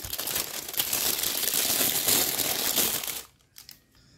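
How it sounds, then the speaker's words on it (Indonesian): A triangular plastic piping bag crinkles and rustles loudly as it is handled in a home kitchen while fish tempura is prepared; the crackling runs steadily for about three seconds, then stops abruptly, leaving a few faint taps. "Untuk membentuknya saya siapkan plastik segitiga seperti ini."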